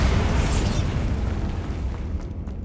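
A Confringo explosive spell blast in the Hogwarts Legacy video game erupts loudly with a dense, sustained rumbling boom that gradually fades over a few seconds, with no voices.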